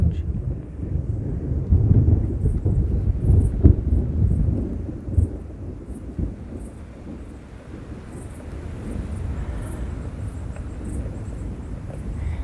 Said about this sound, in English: Do you guys like thunder like I like thunder?